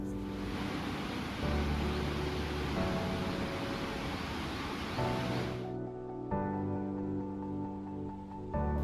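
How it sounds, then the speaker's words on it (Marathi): Vajrai waterfall dropping in three steps amid green surroundings, a dense steady roar of falling water heard from a distance that cuts off partway, leaving music playing. "तीन स्टेपमध्ये पडणारे हे धबधब्याचं पाणी अद्भुत वाटत होतं."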